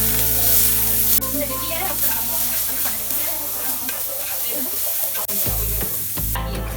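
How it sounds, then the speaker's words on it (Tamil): Chopped onions sautéing in a few spoons of oil on a hot tawa for Madurai-style road-side kothu parotta, a steady loud sizzle with stirring scrapes throughout, cutting off briefly near the end. "அதுல 2 ல இருந்து 3 டீஸ்பூன் அளவுக்கு எண்ணெய் விட்டுட்டு நறுக்கி வச்சிருக்க 2 மீடியம் சைஸ் அளவுக்கு வெங்காயம் சேர்த்துட்டு"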